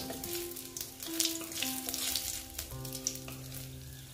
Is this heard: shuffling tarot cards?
no